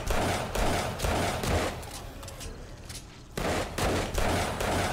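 Rapid bursts of SMG fire in a video game, loud and close, with repeated rattling volleys and a short lull in the middle before the shooting resumes.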